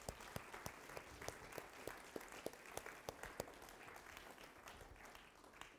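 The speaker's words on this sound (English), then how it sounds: "Give them a round of applause, guys." An audience claps steadily for several seconds, a moderate crowd applauding with distinct sharp claps standing out, fairly faint and distant.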